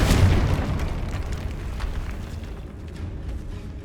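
A Confringo spell blast in the video game Hogwarts Legacy: one loud, deep boom at the start that rolls into a long, fading rumble with crackling debris, with no voices.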